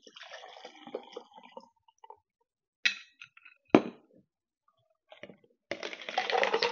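Ice and a mixed drink go into a pint glass: clinks and clatter of ice, a sharp knock, then a steady pour of liquid at the end, close and fairly quiet.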